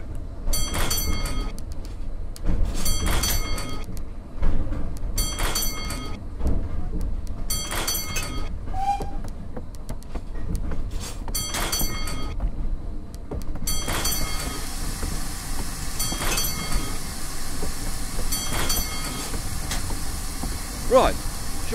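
Steam train on the South Devon Railway heard in repeated bursts of hiss and rail clatter, with a steady rumble underneath and voices talking throughout.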